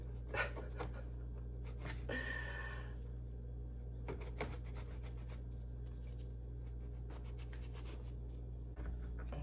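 A knife cuts layered baklava into triangles with a few short scraping and rasping strokes, close but quiet over a low steady hum.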